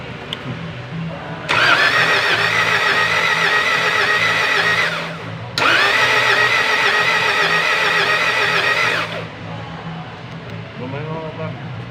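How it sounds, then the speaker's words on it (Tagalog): A Mitsubishi Montero 4M41 diesel engine with a fault cranks and fires up, running loud and steady for a few seconds, cutting out, then restarting and running again before stopping. "Ating pa-start din na yung ating makina"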